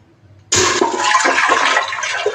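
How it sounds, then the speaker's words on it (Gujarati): Water gushes from a pan into a pressure cooker while preparing rice for khichiya papad, a sudden loud, sustained splashing pour lasting about two seconds with no talk. "આપણે પાણી નાખી દઈએ।"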